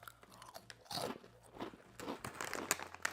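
A crunchy, intensely flavoured snack from a resealable packet is eaten up close, with loud irregular crunching bites and chewing, and no talk.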